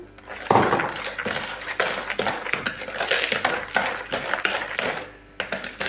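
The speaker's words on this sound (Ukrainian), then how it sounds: "Перемішую." Donut dough of egg and sugar being mixed in a bowl, with dense scraping, clinking and sloshing of a utensil against the bowl throughout, close and fairly loud with brief pauses.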